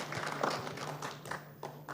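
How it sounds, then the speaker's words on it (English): Audience members at an IT congress give a few sparse, scattered claps, faint and quick, over a low steady hum in the hall. "Let's clap for them for the good work done."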